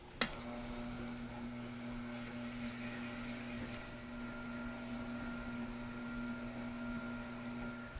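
A Tormek T-7 wet grinding system's polishing wheel hones a chisel bevel, set in a jig. A faint, steady motor hum runs throughout after a single sharp click at the start.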